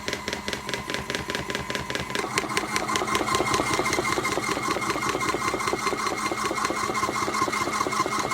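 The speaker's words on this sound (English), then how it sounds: "I'm going to hold it here for these 2 minutes and let it spin" A small collapsible washing machine drones through its spin cycle with a fast, steady mechanical whir and rhythmic thumping, picking up speed and loudness after a couple of seconds and then holding constant, close and alone.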